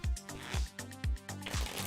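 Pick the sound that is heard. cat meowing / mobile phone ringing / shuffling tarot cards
shuffling tarot cards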